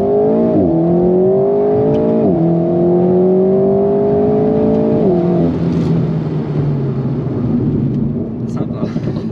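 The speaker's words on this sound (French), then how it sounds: "Je vais pouvoir mettre un petit pied au plancher." A car with its gearbox in manual mode accelerates hard at full throttle on an open road, the engine note climbing loudly through several rising sweeps between shifts, then easing off toward the end.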